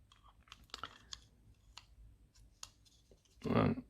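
Small plastic clips on a KEKK K100 mini spot welder's display housing being pushed back into place, a series of faint, close clicks and snaps ending in a louder rustling crunch.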